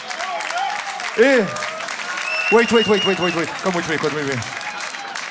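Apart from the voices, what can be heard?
applause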